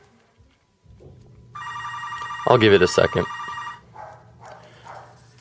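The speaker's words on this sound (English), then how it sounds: "I'm really sorry about this phone ringing and the dog barking," A telephone rings indoors, a bright electronic trill repeating in bursts, fairly close, with a voice speaking over it and a dog faintly audible.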